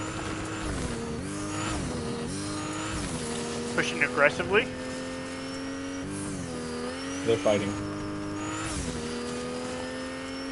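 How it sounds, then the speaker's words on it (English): Car driving in Fortnite, a steady engine drone rising and falling in pitch with brief tire squeals, heard beneath players talking. "Yeah, a big boy car."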